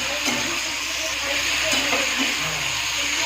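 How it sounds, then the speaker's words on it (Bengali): Potatoes fry in a pan at home, with a steady close sizzle and hiss of oil and a few clinks, while someone talks over it. "আর আমি এদিকে চলে আসলাম আলুটা ভাজতে।"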